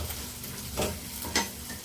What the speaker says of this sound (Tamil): மஞ்சத்தூளை போட்டு நல்லா வதக்கி விட்டுருங்க.